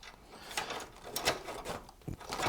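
A socket ratchet clicks in short bursts while turning a bolt on a Pontiac Grand Prix LS4 engine during removal, mechanical ticking at close range with no talk.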